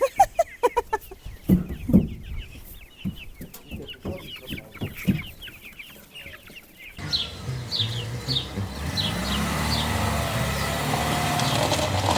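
Broiler chickens and chicks cluck and cheep, with a run of loud clucks and scattered calls first, then a dense chorus of high peeping chicks over a continuous rumbling hum.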